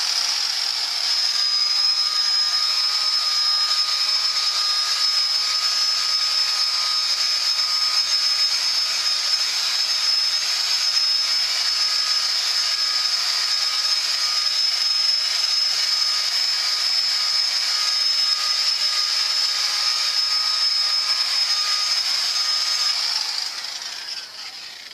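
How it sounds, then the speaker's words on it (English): A large DeWalt polisher spinning a 9-inch wool buffing wheel on acrylic gives a loud, steady high-pitched whine with a constant motor hum, running unbroken for about 23 seconds before winding down. "here we're just going to use a larger DeWalt polisher with a 9-inch wool"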